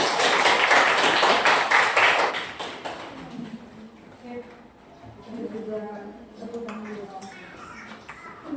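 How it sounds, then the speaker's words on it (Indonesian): Children in a classroom clap their hands together in a brisk burst of rhythmic applause lasting about two seconds, followed by a teacher talking and a few scattered taps. "Maka dari itu kita tepuk tangan dulu dah."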